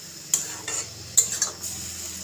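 Kechki fish curry with eggplant is stirred and mixed in a pan: four quick spoon scrapes and clicks against the metal over a low, soft sizzle.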